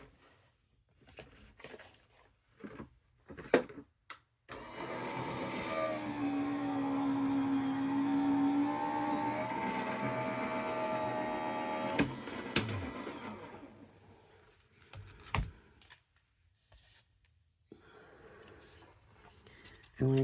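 A die-cutting machine runs a Kokorosa Clockworks die through paper, a steady motorized hum and whir lasting several seconds with a rising pitched tone, framed by brief handling clicks before and after.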